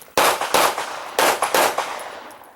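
Pistol shots crack close and loud at an IDPA match at a rifle and pistol club, coming as sharp single and paired reports spaced over a couple of seconds.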